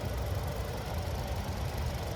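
A 2.5-liter Smart Stream naturally aspirated four-cylinder in a 2023 Hyundai Tucson SEL hums in a low, steady drone, quiet and even throughout.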